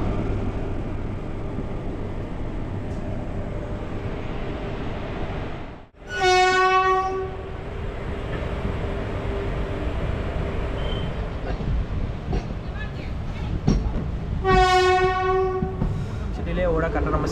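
Special Fare Express train pulling out of Sirkazhi railway station in Tamil Nadu, with steady rumble of rolling wagons and two loud, long horn blasts, one near six seconds and another near fifteen, over constant low rail noise.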